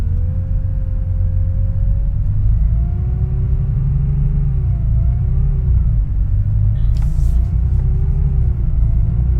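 A Volvo 7700A Facelift bus with a ZF EcoLife transmission in the OMSI 2 driving game, its engine giving a steady loud rumble as the pitch slowly climbs and shifts while the bus accelerates.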